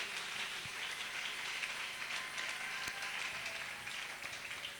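Congregation applauding for the Lord during a church revival service: dense, steady wash of many hands clapping, sustained and evenly loud throughout with no talk over it.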